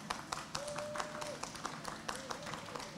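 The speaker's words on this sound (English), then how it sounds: "Please give him applause." Faint, scattered clapping from a distant audience at a health services conference, uneven and thin, with a soft tone sounding briefly in the background.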